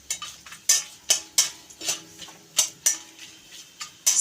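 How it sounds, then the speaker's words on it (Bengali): A spoon lightly stirring cashew nuts in a pan while making carrot halwa, producing a steady rhythm of crisp scraping clicks about every third of a second, close and clear with no voices. "হালকা করে একটু নেড়ে নেব।"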